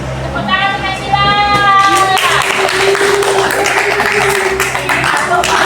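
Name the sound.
applause for a student in class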